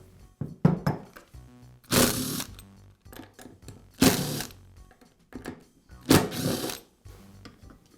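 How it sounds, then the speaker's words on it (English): Screws taken out of one side of the rear handle of a Milwaukee Hole Hawg drill, three spells of close, harsh ratcheting from a screwdriver with small clicks and knocks of parts in between. "I'll begin by removing one side of the rear handle."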